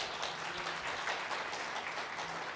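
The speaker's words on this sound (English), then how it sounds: "can I please request everyone to give a big round of applause?" Audience applause at the Jagran Achiever Awards ceremony in Phuket, a dense, even wash of many hands clapping, faint and distant, with no voices over it.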